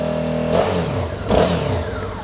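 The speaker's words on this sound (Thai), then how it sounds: "อัตราเร่งดีจริงๆครับ รอบเครื่องยนต์นิ่งนะครับไม่มีสะดุดเลยคันนี้ครับ" A 2020 Suzuki V-Strom 650XT motorcycle's engine rises and falls in two quick throttle blips over a steady idle, heard close with no talk.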